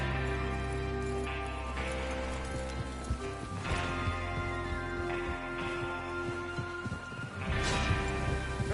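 Horses ridden in the Red Dead Redemption II video game: steady hoof clip-clop under a constant bed of game music and ambience, with occasional heavier thuds and clanks.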